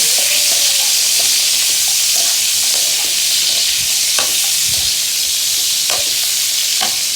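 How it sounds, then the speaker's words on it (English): Chicken pieces fry in hot oil for chilli chicken, giving a loud, steady, close sizzle throughout, broken by occasional scraping stirs in the pan and no voices. "I do have to fry it a little, so I'm going to fry it in this oil"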